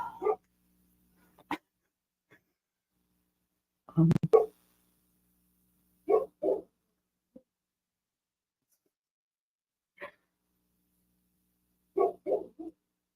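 A small dog gives a few separate barks with a short howling, whimpering note at the end, spaced out over quiet gaps and fairly close in an indoor room.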